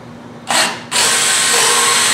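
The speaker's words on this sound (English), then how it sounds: "I'm just going to go drill through here." A 9/32 drill bit bores into metal with a short whining burst, a brief pause, then a loud, sustained high-pitched grind close to the microphone.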